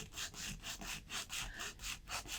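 Coarse-grit sandpaper rubs over a surface prepared for crackle medium in a steady circular motion, giving close, rhythmic rasping strokes about five times a second with no voices.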